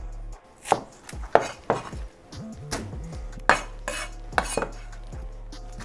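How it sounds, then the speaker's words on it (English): Knife chopping spring onion into chunks on a cutting board for Sichuan boiled beef, a run of about eight sharp, close chops in uneven rhythm with board knocks between them, no talk. "Next, spring onion. Okay. Slice it in the same type of chunks."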